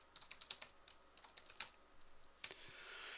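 A few scattered keystrokes on a computer keyboard while someone codes a Java GUI, soft and close, in short irregular bursts with pauses between them and no talking.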